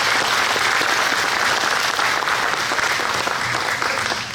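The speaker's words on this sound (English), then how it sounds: "Let's give them a round of applause," Audience applause fills a hall at an Iwo Jima event, honoring the volunteers who set up the audiovisual equipment: a dense, steady wash of many hands clapping, loud and close, holding evenly throughout with no voices rising above it.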